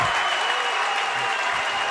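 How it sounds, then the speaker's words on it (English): Basketball team applause at a boys high school sub-state championship game as starters and seniors leave the court, a brief steady burst of crowd clapping in a gym, continuous and moderately loud. "giving them a good round of applause from their team."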